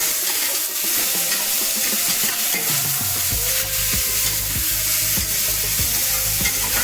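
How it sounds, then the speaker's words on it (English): Chopped onions sizzle and fry in oil with spices for prawn pulao, a steady crackle with repeated scraping stirs of a spoon that grow more rhythmic partway through. "keep mixing till the onion turns golden brown"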